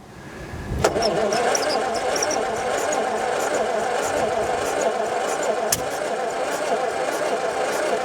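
A classic barn find car cranks and fires with the choke held on, then settles into a loud, steady idle nearby, with a sharp knock or backfire partway through.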